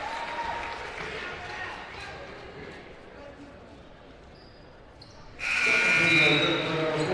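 Crowd applause fills the gym at a Grandville vs. Thornapple-Kellogg high school boys basketball game, a steady roar that swells into a louder burst of cheering near the end while an announcer's voice carries over it.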